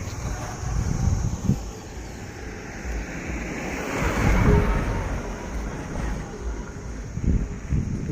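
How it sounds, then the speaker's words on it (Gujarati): The wide Mahisagar river flows beneath a long bridge, giving a steady broadband rush of moving water mixed with gusty wind buffeting that swells and fades. "આપ જોઈ શકો છો પાણીનો પ્રવાહ ચાલુ છે"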